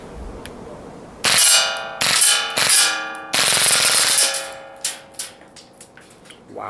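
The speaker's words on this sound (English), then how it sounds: "We'll do a quick burst and I might dump the mag, we'll see." A WE Galaxy G Series airsoft pistol fires on full auto in several loud, close bursts of sharp metallic cracks, separated by brief pauses, then fades into a few ringing clangs.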